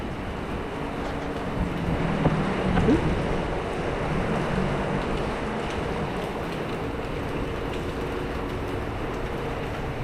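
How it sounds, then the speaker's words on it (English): Steady rain falls on St. Roque Street in Macau, a dense even hiss filling the whole stretch with no voices, a little louder early on and then holding constant. "Now it's really starting to rain."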